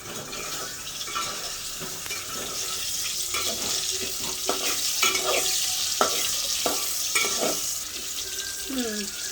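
Ingredients are fried and stirred in a pan for a meat dish. A continuous sizzle sits under repeated scraping and clattering stirs, fairly close and steady, with no clear talk.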